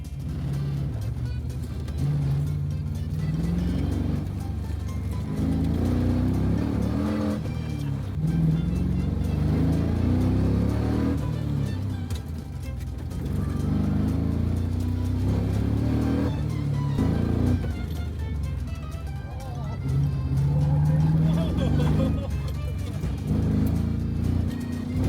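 A tuned race car makes a run, its engine droning and surging in repeated waves of acceleration, loud and close throughout, with a voice talking over the sound.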